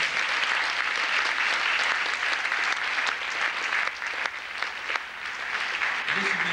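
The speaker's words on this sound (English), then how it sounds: "Let's give them a round of applause" A university lecture hall audience claps in dense, sustained applause that holds steady for several seconds before easing slightly, with a few voices mixed in.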